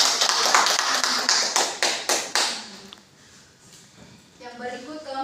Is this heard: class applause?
yes